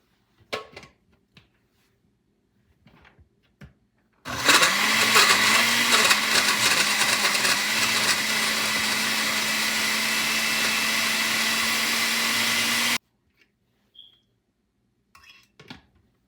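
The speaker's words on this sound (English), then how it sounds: "Then we're going to blend everything together now" A countertop blender whirs loudly for about nine seconds, blending glaze ingredients with honey for mango salmon, in a steady motor roar that starts and stops abruptly between quiet kitchen clatter.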